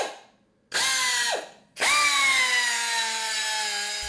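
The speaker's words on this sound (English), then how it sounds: "The bottom bracket area is even more tricky, so here I like to use a die grinder for the rough work." A die grinder with a carbide cutter roughs out the bottom bracket area of a cargo bike frame: the motor whines up, stops, then starts again and keeps running with a steady high-pitched grinding whine, loud and close.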